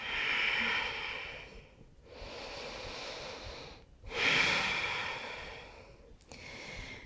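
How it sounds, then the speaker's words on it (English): Slow, easy breaths during a yoga practice, with three long airy exhalations separated by short pauses, close and fairly soft, and no talking. "Nice, easy breaths."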